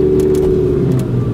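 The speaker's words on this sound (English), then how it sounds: "No, this is my Lamborghini." A Lamborghini's engine holding a steady, loud idle or low rev, a continuous near drone with faint whirring on top, running alone without talk for about a second and a half.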